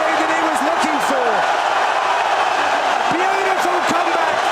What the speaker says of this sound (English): The crowd go absolutely wild